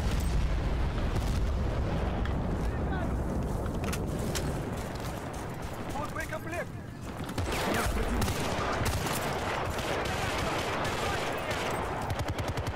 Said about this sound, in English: Oh, no, it's exploding.